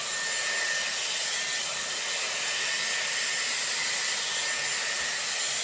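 A Dyson Airwrap hair styler blows a loud, steady rush of air while drying hair, an unbroken hiss with no change in level and no voices.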